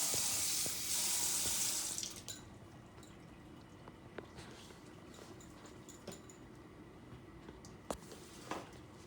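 Water rushes loudly from a kitchen tap for the first two seconds while lasagne is being made, then gives way to quiet splashing, drips and small clatters as the mixture is stirred.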